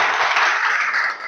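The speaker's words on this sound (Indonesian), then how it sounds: "Tepuk tangan untuk si Alfred." Applause from a classroom group at a teacher training session, a dense burst of hand clapping that stays steady and close for a moment before tapering off, with no one talking over it.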